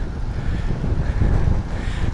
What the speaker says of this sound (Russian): Вот тебе и ветер. Разошелся под вечер.